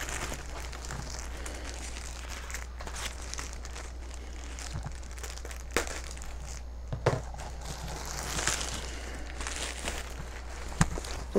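Plastic wrapping on a Coach crossbody bag package being cut and pulled open, giving scattered crinkles, rustles and soft snaps over a steady low hum, with a few sharper crackles near the end.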